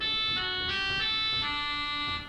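A bright, nasal oboe stop on the Usher Hall pipe organ plays a few held notes in succession, buzzy and rich in overtones, fading at the end; no speech.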